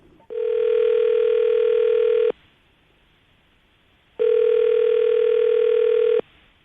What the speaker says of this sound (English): we're going to call him now, see if we can get him on the phone